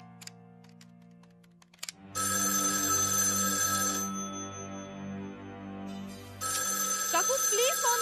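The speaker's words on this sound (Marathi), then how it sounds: "प्लीज फोन घे" A telephone rings indoors in two loud, steady electronic ringtone bursts, the first lasting about two seconds and the second starting near the end, over a low background hum.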